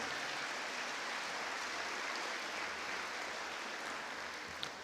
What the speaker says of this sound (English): How about a nice round of applause for those gentlemen?